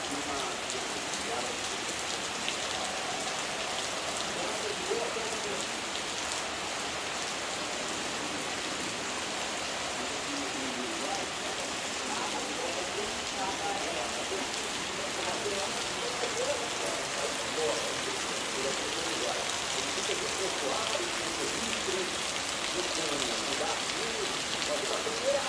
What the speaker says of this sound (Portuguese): Chuva boa.